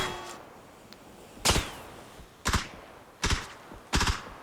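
Gunfire in the PUBG battle royale game: four sharp, heavy shots at irregular intervals of about a second, punching out over a quiet background with no talk.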